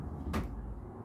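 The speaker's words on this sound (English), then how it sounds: "that's the wind trying to pull at the door." A door gives a single muffled clunk as wind tugs at it, short and fairly close, against a low background rumble with no speech.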